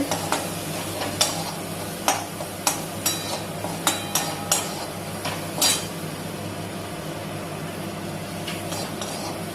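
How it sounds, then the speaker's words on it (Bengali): Repeated clinks of a spatula against a pan at an uneven rhythm over a steady low sizzle of vegetables being stir-fried. "তারপরে এটা নাড়তে থাকবো। এটা একটু ভাজা হবে।"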